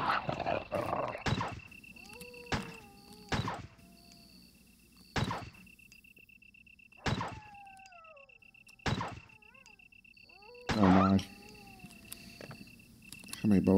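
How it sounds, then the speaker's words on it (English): A dog in the 1996 video game Resident Evil makes a series of sharp, separate bursts spaced a second or two apart, mixed with thin game tones and effects over quiet background music. "this is a different dog"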